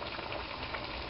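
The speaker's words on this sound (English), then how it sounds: "And that is boiling like crazy." Water at a rolling boil in a Primus pot over an alcohol stove, a steady, dense bubbling hiss that holds even and close throughout, with no voices.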